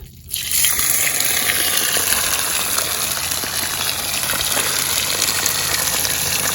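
Water gushes forcefully and continuously out of a drained pipe at a valve tap, a loud close rushing spray that starts abruptly and keeps pouring without pause.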